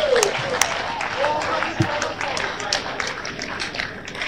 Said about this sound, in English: Give the Lord a better clap offering.